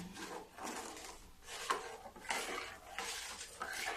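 Tamarind chutney seasoned with black salt and red chilli powder is stirred in a pot, a spoon scraping in repeated sweeping strokes with a soft bubbling sizzle underneath, close and fairly quiet, no voices.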